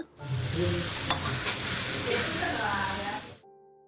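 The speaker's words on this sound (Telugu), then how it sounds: "ఇప్పుడు అవన్నిటిని షాలో ఫ్రై చేస్తున్నా" Marinated fish pieces seasoned with salt, turmeric, chili powder and plenty of curry leaves shallow-fry in oil, giving a steady close sizzle with a brief sharp crackle near the start, under faint background voices.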